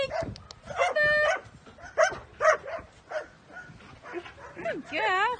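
Dogs in neighbouring paddocks, with several sharp barks and yips scattered across the clip alongside whimpering and a rising howl-like whine near the end, heard close and fairly loud.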